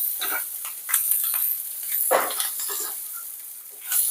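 Chicken fry sizzles in a pan, a soft, steady hiss broken by intermittent scraping stirs and a few louder spatters, heard alone without talk.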